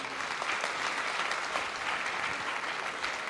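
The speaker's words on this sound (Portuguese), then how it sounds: "Você pode aplaudir o Senhor?" Church congregation applauding at a Wednesday night service, a steady dense wash of clapping hands that fills the space evenly from start to finish with no voices on top.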